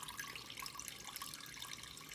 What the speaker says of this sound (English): we'll let that drip.